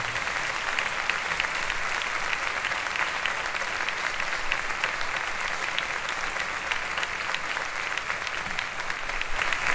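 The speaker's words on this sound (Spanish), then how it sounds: "Fuerte el aplauso para ellos." Steady, dense applause from a concert audience for a charity wind band, continuous clapping at even strength throughout with no talk over it.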